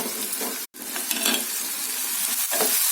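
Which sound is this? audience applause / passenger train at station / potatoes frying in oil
potatoes frying in oil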